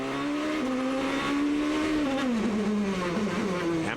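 Onboard a 2006 GP2 race car, the engine howls with a loud, sustained note that rises and falls through gear changes as the race leader heads into the pit lane.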